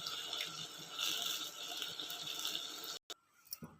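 An opened kitchen tap runs water into a sink with a steady hiss and patter. The flow stops abruptly near the end, followed by a few faint knocks and rattles.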